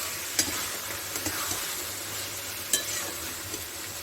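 Spice paste fries with ridge gourd and potato in a pan for a poppy-seed curry, a continuous soft sizzle with a few sharp clicks of a spatula against the pan, close by and without speech.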